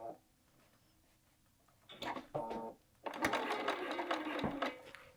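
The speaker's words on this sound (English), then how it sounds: "I'm going to be machine sewing mine" A sewing machine with an edge stitch foot stitches the bound back hem of a quilted jacket, starting with two short whirring bursts and then running steadily and close for the rest of the clip.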